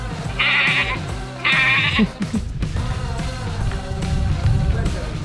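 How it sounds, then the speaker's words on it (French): Goat bleats played by a smartphone voice assistant: two loud wavering bleats close together, followed by a low rumbling background with faint voices. "Voici une chèvre."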